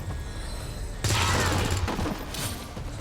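Weapon fire in the tactical game XCOM 2 erupts as a loud, dense burst of shots and rumble, then fades into a lighter rattle with a few scattered later hits.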